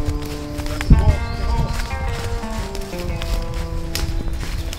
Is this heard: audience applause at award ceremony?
no